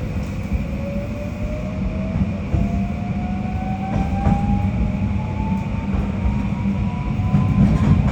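JR Kyushu 821 series electric train running on the Hohi Line toward Kumamoto, a steady low rumble of wheels on rails with faint rhythmic clacks and a rising motor whine as it accelerates, heard from inside.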